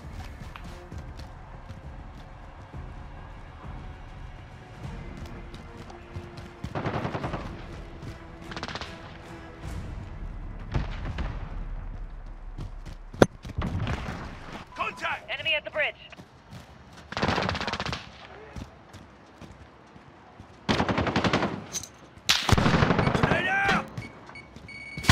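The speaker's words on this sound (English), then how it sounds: "Enemy to the area. Taking fire." Bursts of automatic rifle fire from a Scar-17 in a Modern Warfare Team Deathmatch on an urban map, arriving in several loud volleys separated by quieter stretches of game ambience.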